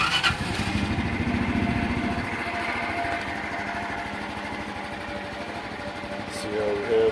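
A Honda Elite 125 or 110 scooter engine starts up and settles into a steady, buzzy idle, a rapid putter close by with some background noise.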